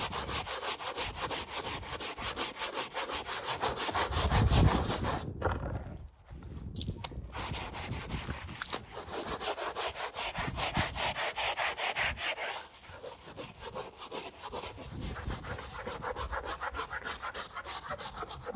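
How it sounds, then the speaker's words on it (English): A scouring pad soaked in sugar soap scrubs old, loose paint in continuous back-and-forth rubbing strokes. The sound is close and steady, with brief pauses. "So this is just sugar soap and a scouring pad."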